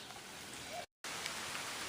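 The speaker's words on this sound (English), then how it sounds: "just started raining" Light rain patters in a steady, even hiss across the surface, broken once by a moment of total silence before the rainfall resumes.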